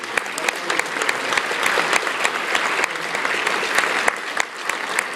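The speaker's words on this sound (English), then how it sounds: "give them a round of applause for all the work they do" Steady audience applause at a high school band booster farewell gathering, many hands clapping together at a constant loudness for about five seconds with no talk over it.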